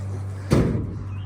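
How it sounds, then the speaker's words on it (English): An old pickup truck's door, on a solid truck with a 345 gas engine, shut once with a single close, firm thud over a low steady hum, no talk. "This door shuts nice."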